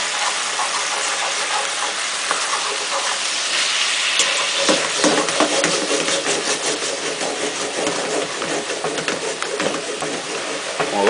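Broth for hake in green sauce being stirred in a pot, a steady scraping and bubbling wash with rubbing strokes and a few sharper knocks, continuous and fairly loud, with no talking.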